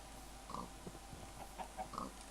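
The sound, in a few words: pigs oinking in Minecraft, video game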